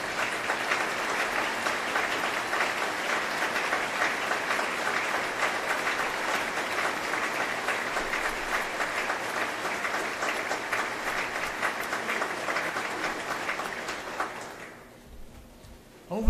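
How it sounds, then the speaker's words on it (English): A large audience at a governor's State of the State address breaks into a long, loud, sustained round of applause that holds steady and then fades out near the end. "so I would like to ask Commissioner Russell McMurray to stand as we give him a round of applause"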